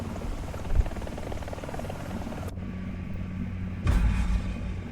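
Apache AH-64DJP attack helicopter in War Thunder: a steady, loud rotor and turbine drone runs throughout, with a brief thump near the start and a sharper burst of noise toward the end.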